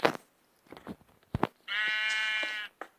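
A Minecraft sheep bleats once in a long, steady, harmonic cry lasting about a second. Short bursts of other game noises come before and after it.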